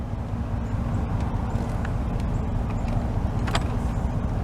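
A 1996 Chevrolet Tahoe idles in gear, its engine a low, steady rumble close by, with a few faint clicks and knocks over the top.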